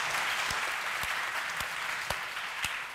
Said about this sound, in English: I kind of felt like you should get a round of applause too